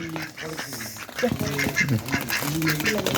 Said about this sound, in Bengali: দেখো হাঁসগুলো আসছে